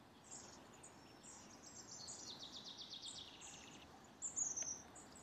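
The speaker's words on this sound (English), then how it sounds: "you begin to hear birdsong and the leaves of the trees rustling gently in the breeze" Faint birdsong in a wood, a few thin chirps and short trills carrying from a distance over quiet background rustle, with no voices.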